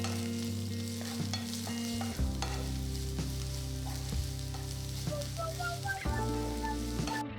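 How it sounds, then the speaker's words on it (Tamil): Onion, garlic and green chili sizzling and crackling steadily in a hot pan, with occasional stirring scrapes and a low hum underneath. "இது எல்லாத்தையும் போட்டு வதக்குங்க."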